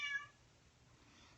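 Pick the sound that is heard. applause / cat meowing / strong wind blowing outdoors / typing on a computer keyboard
cat meowing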